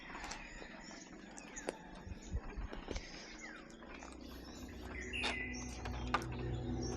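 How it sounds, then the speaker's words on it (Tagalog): Faint bird chirps and tweets scattered over a quiet morning outdoor background in Bolinao, Philippines, with soft rustling and low ambient hum throughout. "Maririnig mo din yung mga huni ng ibon."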